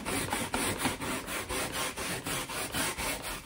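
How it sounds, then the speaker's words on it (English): A hand brush scrubs a stained patch of carpet in brisk, even back-and-forth strokes, about a dozen rhythmic rasping passes, close and continuous with no voices. "So I'm scrubbing without the machine on for now."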